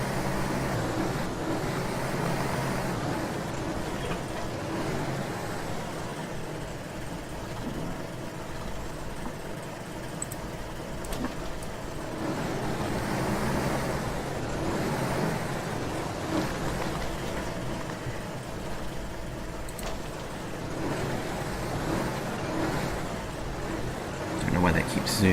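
A truck engine drones steadily while driving through forest in Spintires: Mudrunner, a low continuous rumble that swells and eases, with someone talking over it.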